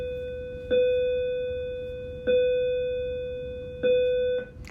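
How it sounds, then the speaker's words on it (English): A bell chimes three times at even intervals, each clear ring lingering and fading before the next. "Now that the bell is rang"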